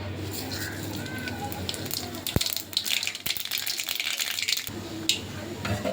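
Hot oil sizzles close by as mustard seeds burst into scattered sharp pops and crackles for a few seconds, then settle back to a hiss.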